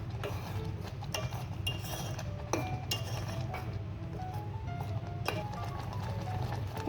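A steel spoon adding sugar to semiya payasam, clinking against a vessel in scattered light taps, close by over a steady low background hum.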